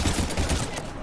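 Dense, continuous gunfire crackles in a Mass Effect 3 firefight, a loud, close burst of overlapping shots with no pause over the brief moment.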